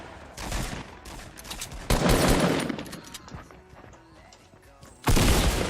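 Gunfire from a new weapon in the Fortnite Battle Royale video game: several loud, sharp bursts of shots separated by quieter gaps, with the last burst striking abruptly near the end.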